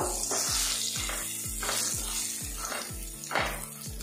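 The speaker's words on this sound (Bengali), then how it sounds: "এবার এই পটলগুলো আমি ভালো করে ভাজা ভাজা করে নেব" Pieces of pointed gourd fry in oil seasoned with salt and turmeric, giving a continuous close sizzle and crackle with a regular low pulsing beneath it and no talking.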